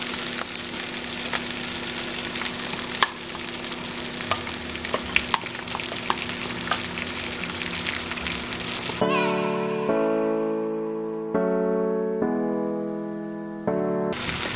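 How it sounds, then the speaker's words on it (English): Olive oil from tinned Spanish sardines sizzles and spatters loudly in a pan for several seconds, then steady tonal musical notes take over toward the end. "This time I will add the olive oil from our Spanish sardine."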